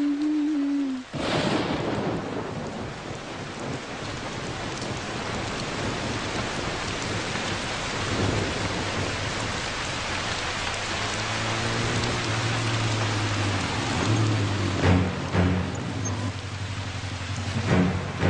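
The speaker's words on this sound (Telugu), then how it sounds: "ఈ వర్షం." Steady heavy rain pours throughout with a dense, even hiss, while low thunder rumbles roll in the background and brief vehicle-like drones pass late in the stretch; no talking.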